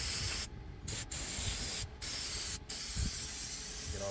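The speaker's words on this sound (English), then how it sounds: "Now all we gotta do is we're gonna clean her up with some brake cleaner." Brake cleaner sprayed from an aerosol can onto a Freightliner Cascadia truck engine to wash off spilled coolant, heard as a steady close hissing spray broken by several short pauses, with no talking.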